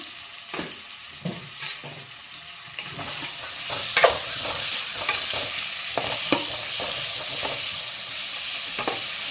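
Sliced onions sautéing with salt in a pan for a small bitter gourd fry, a steady close sizzle broken by repeated scraping stirs of a spoon against the pan, with no talking.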